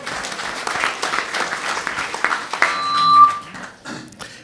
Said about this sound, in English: I would love you to give yourselves a round of applause